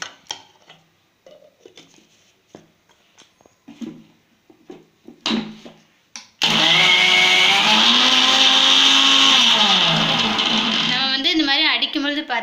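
An electric mixer grinder whirs on roasted peanuts to make peanut butter. First comes quiet handling and a voice speaking, then a loud sustained motor roar that steadies and ends in a wavering pitch.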